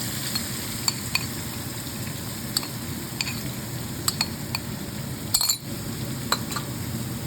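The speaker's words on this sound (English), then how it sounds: "we now add the masala paste that we made into the oil. It should start sizzling." Steady sizzling and bubbling of masala spice paste in hot oil in a pan, with occasional clinks of a utensil stirring, continuous and close, no voices.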